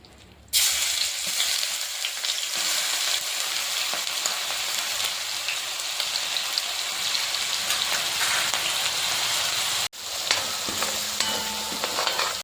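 Crushed green chilli, garlic and ginger sizzle loudly in leftover pork-frying oil, a steady dense crackle with stirring scrapes that briefly drops out near the end, then resumes with the clink of utensils.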